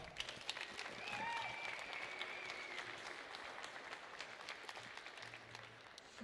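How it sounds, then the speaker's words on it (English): Steady applause from a crowd fills the clip, a continuous patter of clapping at low volume throughout. "Please join me in giving the team a round of applause."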